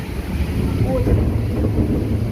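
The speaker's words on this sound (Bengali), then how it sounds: "দেখেন প্রচণ্ড বৃষ্টি, কি অবস্থা বৃষ্টি" Heavy rain falls beside the Dhaka–Chittagong highway, heard from a window as a steady, loud, low-heavy roar with wind buffeting the microphone.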